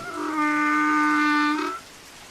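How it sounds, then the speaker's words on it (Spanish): A donkey brays loudly in rainy weather: a single sustained, harsh, reedy call lasting about a second and a half that swells in and cuts off abruptly, heard alone and close. "Rebuzna muy fuerte."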